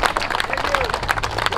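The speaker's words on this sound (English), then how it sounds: "So round of applause to Mike Posey." A gathered crowd applauds aboard a memorial cruise, a brief burst of dense clapping mixed with chatter and a whistle-like tone, heard close and fairly loud.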